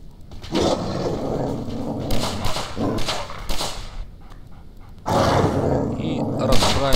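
Dogs growling in the video game S.T.A.L.K.E.R. Online, rough snarling bursts that swell and fade in waves, loud and close, mixed with game noise.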